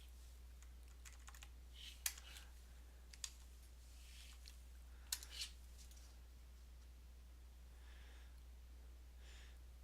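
Soft, sparse keystrokes on a computer keyboard in a quiet room, scattered clicks across the stretch with a couple of sharper taps, over a steady low electrical hum.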